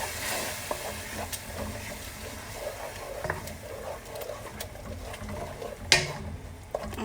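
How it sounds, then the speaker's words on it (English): Tomato simmering in a pan over low heat for gizzard kebabs, a soft steady bubbling sizzle with scattered faint pops and one sharper clink near the end, no voices. "we're just gonna cook it on low heat and let it simmer"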